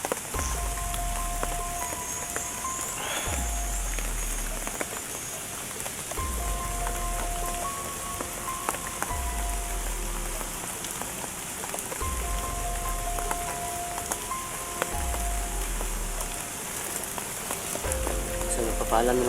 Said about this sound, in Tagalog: Masyadong malakas yung ulan, no?